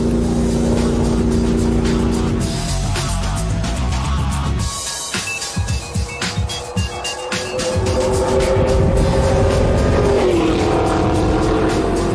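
Race cars roar around a track, engines loud and sustained with a dip as a car slows into a corner, then rising again as another accelerates, with a brief tire squeal.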